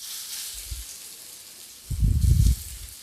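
Pieces of arbi (arum root) drop into hot oil, with a faint steady hiss under a soft thump, then a louder burst of bubbling, spitting sizzle near the end.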